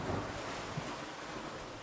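Wind gusts at a seaside fishing spot, a steady broadband rush with microphone buffeting and a brief thump, faint and continuous with no voices.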